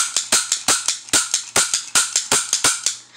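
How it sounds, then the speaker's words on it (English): Small gunfire in a video game, using a tiny gun: a rapid series of sharp, loud pops fired in quick bursts of two or three, repeating at a brisk regular rhythm with no talking. "Now I'm just sticking with this little tiny gun."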